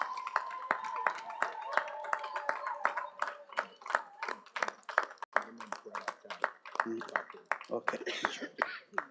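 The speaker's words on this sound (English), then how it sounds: "Please give her a big round of applause" Scattered applause from a graduation ceremony audience, individual claps ringing out unevenly over a steady murmur of voices and some talk, with coughs mixed in.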